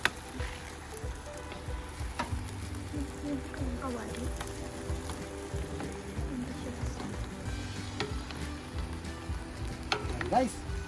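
Ilocano-style pinakbet vegetables sizzle and fry in a pan while being stirred, a steady close crackle with scraping stir strokes throughout.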